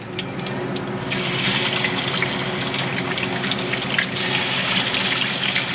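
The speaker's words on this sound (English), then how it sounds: "Just fry it for a few minutes and then take it to the grill." Barbecue wings fry in a wok of oil, a dense, steady close hiss and bubbling roar that swells after the first second and holds, sounding much like running water.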